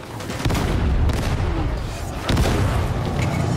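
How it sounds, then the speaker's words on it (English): Explosive barrel blowing up in Warhammer Darktide, two heavy booming blasts about two seconds apart over dense rumbling combat noise. "Barrel's going to blow!"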